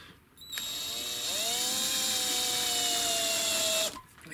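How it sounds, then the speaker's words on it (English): A small electric drill bores a centre hole in a Corian worktop sample pen blank, a loud steady high whine that spins up, holds for a few seconds close by, then stops. "I like to use this little drill."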